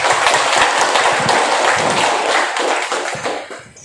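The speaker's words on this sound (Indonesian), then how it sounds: "kita beri aplaus dulu untuk calon nomor urut 1" Applause for village head candidate number 1 at a Kemboja election event: a dense, steady crowd clapping that fills the room, then thins and fades at the end.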